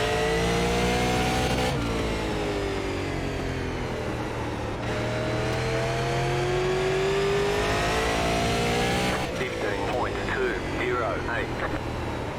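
Several race car engines from the iRacing game roar loudly and steadily, with long rising and falling tones as cars go round the SLM Bullring oval. A commentator talks over the engines.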